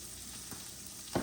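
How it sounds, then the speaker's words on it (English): Goat liver sears in a hot pan with a steady close sizzle throughout, a short louder burst of frying near the end. "There's your liver. We're gonna sear it real quick."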